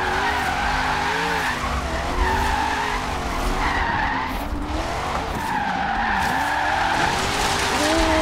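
A Corvette in Forza Horizon 3, steered with a Logitech G920 wheel, drifts through a lap, its tires squealing almost continuously over a steady roaring engine, loud and close with repeated rising and falling screeches.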